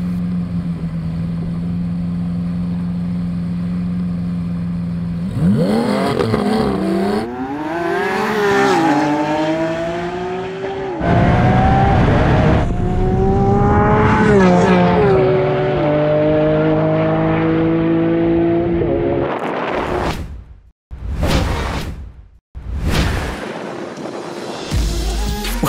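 Lamborghini Aventador S Roadster and Porsche 911 GT3 RS launching from a drag race start, loud engines idling then revving hard with rising gear-change sweeps, followed by sharp bursts and cut-offs as the cars accelerate away.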